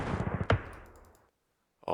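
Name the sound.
gunfire in video game Campaign Series: Rising Sun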